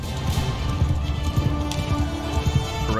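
Rapid hoofbeats of galloping cavalry horses in the video game Mount & Blade II drum steadily over a dense, rumbling background, a continuous clatter of many hooves at once.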